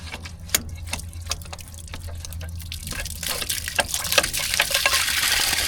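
Fluid drains from the drain plug of a 1940s CAT D8 dozer that has sat unused for decades: irregular drips at first, building into a steady, close splashing trickle and gush, with no talk.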